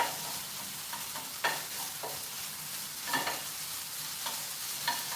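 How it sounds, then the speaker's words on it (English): Sausage, escarole and garlic frying in a pan while being stirred, a steady soft sizzle with occasional scraping strokes of the utensil, close and fairly quiet. "Get that stirred up."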